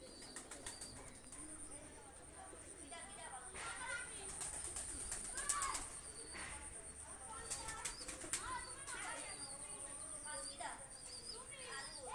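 Pakistani high-flyer pigeons, including a pair of golden ones, flutter and shuffle close by, wings flapping in short bursts, with soft coos and someone talking over them.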